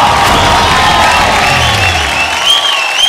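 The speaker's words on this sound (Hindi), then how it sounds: "जोरदार ताली, आप सेफ," An audience at a Bhojpuri TV talent show applauds and cheers loudly, a dense, sustained burst of clapping with whoops that tapers off near the end.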